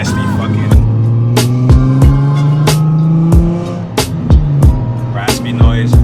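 Nissan 350Z Nismo exhaust with a flex pipe, revved in sharp repeated blips, raspy and loud up close, with a steady idle drone between the bursts.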